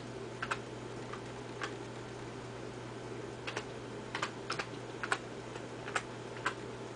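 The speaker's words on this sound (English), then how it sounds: "So I'm gonna go ahead and type the address in." A website address typed on a computer keyboard with one hand: sparse, uneven keystrokes clicking singly and in small clusters over a steady low hum, close and clear, with no talk.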